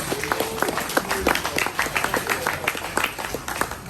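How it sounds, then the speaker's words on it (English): Scattered applause from an audience at a car-audio competition awards ceremony, with sparse, uneven claps from a modest crowd and a voice speaking over part of it. "Clap on a hand for those folks"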